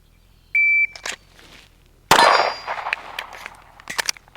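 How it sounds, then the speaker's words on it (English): A shooting-range shot timer gives one short, steady electronic beep, followed by a loud handgun shot and scattered metallic clanks and handling noise. "let's get the timer turned on"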